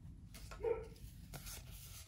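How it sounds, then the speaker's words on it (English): A dog barks once, a short single bark indoors, heard faintly in a quiet room with a low background hum. "It's my dog barking."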